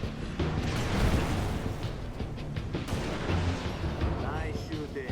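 Halo Reach battle gunfire and explosive booms crack in a dense, loud barrage, layered over background combat noise with voices faintly present.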